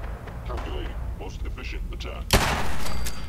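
A single pistol gunshot in Fallout 4 on PS4: one sharp, loud crack with a brief noisy tail, rising over a steady low game background.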